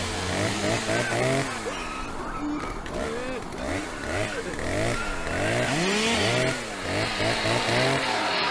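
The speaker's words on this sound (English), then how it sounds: "A family of cannibals with a madman with a chainsaw." Chainsaw revving loudly and continuously in a Leatherface horror video game, the engine pitch rising and falling in repeated swoops, with voices talking over it throughout.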